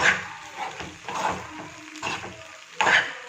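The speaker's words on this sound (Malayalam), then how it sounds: "എന്നിട്ട് നന്നായിട്ട് ഇളക്കി കൊടുക്കുക" Macaroni being stirred into chicken masala in a pan over a low flame, soft repeated scraping and shuffling strokes with a faint sizzle, close and quiet, ending in a louder scrape.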